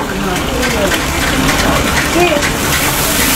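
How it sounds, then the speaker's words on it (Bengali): Water gushes hard and steadily from a pipe line in a cramped restaurant kitchen, a loud continuous rushing noise that fills the whole moment while people talk over it. "এই পানি লাইন কোথা থেকে আসছে?"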